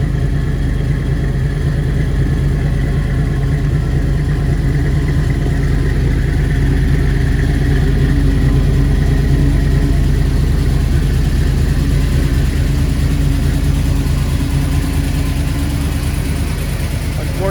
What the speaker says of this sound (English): Very nice sounding exhaust, and the engine just sounds incredible when you're behind the wheel and you give it some gas.